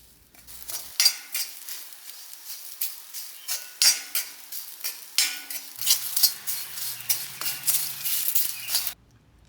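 Chickpea curry ingredients roasting in a pan, with a spoon scraping and stirring in repeated sharp metallic strokes over a soft sizzle, close and steady, then stopping abruptly at the end.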